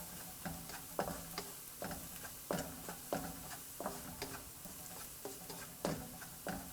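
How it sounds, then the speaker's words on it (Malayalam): Onions with salt being sautéed in a pan over a medium flame, a soft continuous sizzle broken by regular scraping and stirring knocks of a spoon against the pan, heard up close with no voices. "മീഡിയം ഫ്ലെയിമിൽ വെച്ച് വഴറ്റുക."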